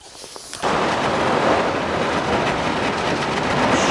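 After a brief quiet moment, a loud continuous crunching and grinding starts as a small fishing boat pushes through thin lake ice, carrying on steadily to the end.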